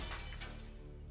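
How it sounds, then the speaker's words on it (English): Glass shattering as a thrown brick strikes it, a brief bright crash with a quick tinkling decay, fairly quiet and with no voices. "I was happy to hear the satisfying sound of shattering glass"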